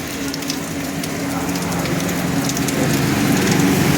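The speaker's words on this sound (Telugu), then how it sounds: "మొత్తం చూపిస్తా పైనుంచి వాటర్ ఎలా పడుతుందో." A waterfall beside the walking path to a Venkateswara temple pours in a continuous broadband rush, steady and fairly loud throughout, with no voices.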